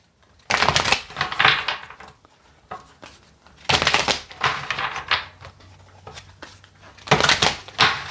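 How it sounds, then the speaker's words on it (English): Tarot deck being shuffled in three separate bursts of riffling, crisp papery card noise near and fairly loud, with quiet pauses between each shuffle. "All right, give me 3 more shuffles."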